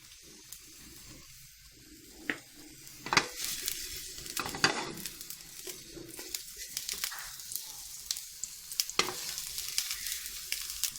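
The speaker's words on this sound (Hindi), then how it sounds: "हल्का हल्का सा फ्राई करना है इसको।" An eggplant sandwich filling fries lightly in a pan, giving a steady close sizzle with frequent scraping stirs and sharper crackles throughout.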